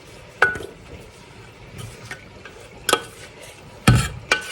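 A spatula stirring spaghetti carbonara in a pan, with soft scraping, a light sizzle and a few sharp clinks of metal against the pan at irregular intervals.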